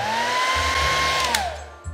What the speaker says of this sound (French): encore une fois je vais utiliser mon sèche-cheveux